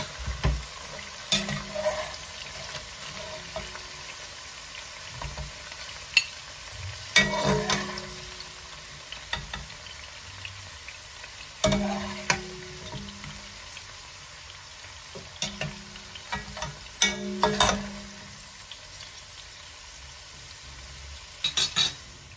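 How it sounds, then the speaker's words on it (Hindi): Okra frying in cooking oil in a pan, stirred now and then: a steady low sizzle with scattered scrapes and clinks of a utensil against the pan, no talk. "ये हमने 2 मिनट के लिए भिंडियों को फ्राई कर लिया।"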